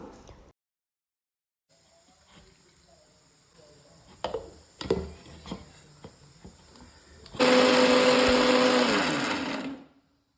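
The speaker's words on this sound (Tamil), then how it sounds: "இதை ஒரு மிக்ஸி ஜாரில் போட்டு நல்லா அரைச்சி எடுத்துக்கலாம்" Scattered clicks and taps, then a mixer grinder roars loudly for about three seconds grinding spices before stopping abruptly.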